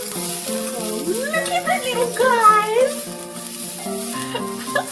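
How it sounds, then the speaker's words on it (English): Miniature meatballs sizzle and fry in a small hot wok, making a steady crackling hiss under a person's excited talking. "So we'll just get our wok nice and hot. And you ready for the sizzle?"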